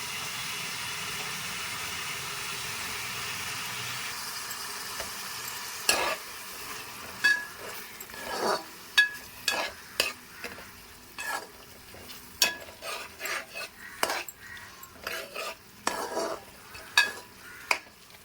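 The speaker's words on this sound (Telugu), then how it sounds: "ఇప్పుడైతే కొద్దిగా టమోటా మగ్గ వేస్తున్నాం" Tomatoes cooking in a pan for a ridge gourd and chana dal curry, first a steady low sizzle, then a run of irregular scraping and clinking stirs, close and without talk.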